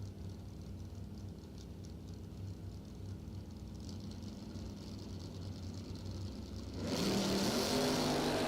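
At a doorslammer drag racing event, a Chevrolet S10 and a 1965 Chevrolet Nova launch off the line; a distant engine rumble suddenly swells into a loud, rising roar near the end.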